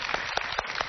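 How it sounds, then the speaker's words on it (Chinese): Studio audience applause on a Chinese television talk show as a guest is welcomed onstage, a dense steady wash of many hands clapping at close range, filling the whole moment without a break. "我们先用掌声来欢迎他。"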